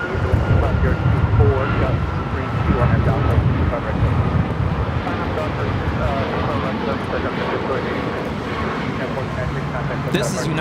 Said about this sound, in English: 1496 taking off to Cleveland on the MAX 8